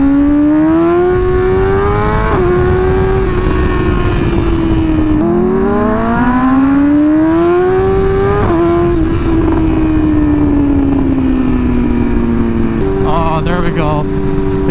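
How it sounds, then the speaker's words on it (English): A BMW M1000RR sport motorcycle engine with an SC aftermarket exhaust revs up and down repeatedly, loud and raspy with a deep throaty exhaust note, shifting pitch through several gear changes. "This bike sounds so much better with the SC exhaust."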